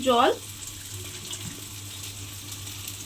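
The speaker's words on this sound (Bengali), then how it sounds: "জল দিয়ে মশলাটাকে খুব ভালোভাবে গুলে নেব।" Water poured into a mix of chili powder and cumin powder for a soybean curry, a steady soft running stream that lasts throughout after a brief tonal chirp at the start, with a low background hum.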